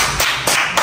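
Applause from an audience at a street fashion contest in Pointe-Noire, Congo, with three quick bursts of loud hand clapping over a dense, noisy crowd bed and no one speaking.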